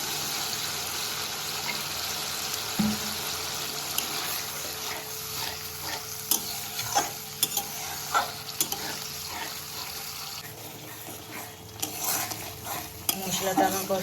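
Soybean curry spices being sautéed with a little water, a soft steady sizzle under frequent clinks and scrapes of a spoon stirring against the pot.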